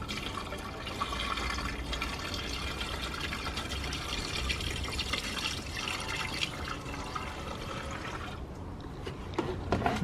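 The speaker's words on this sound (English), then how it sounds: "so you just put your washer fluid in there" Windshield washer fluid is poured into the reservoir of a 2013–2019 Nissan Sentra, making a steady, soft gurgling trickle of liquid that runs continuously and tapers off near the end.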